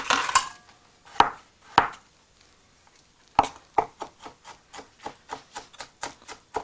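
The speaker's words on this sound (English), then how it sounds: "And I have here 3 big cloves of garlic that I will roughly chop up." A knife roughly chops three big garlic cloves on a board, first in a few separate sharp knocks and then in a steady run of rhythmic chops, close and distinct with no talk.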